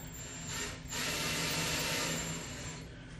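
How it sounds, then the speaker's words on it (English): A small power drill with a small bit whirs steadily for a few seconds, boring a pilot hole through a hollow core door close by, starting and stopping with a brief pause early on. "I'm just going to drill a pilot hole in the center of this."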